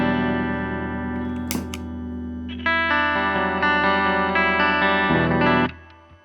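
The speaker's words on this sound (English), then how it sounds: "I've just got the MXR reverb set to a spring setting." An electric guitar plays sustained notes and a chord through an Orange Terror Stamp amplifier with an MXR reverb pedal on a spring setting, a soft springy reverb tail lingering after the strings stop.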